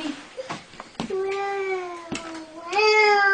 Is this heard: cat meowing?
yes